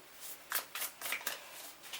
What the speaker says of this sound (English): But let me pull some tarot cards for you. I'll be live shuffling them